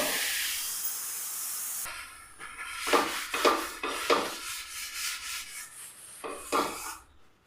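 Rava dosa batter meets a hot pan with a close hiss and sizzle, rising in several uneven bursts of crackling steam before fading out, with no talking.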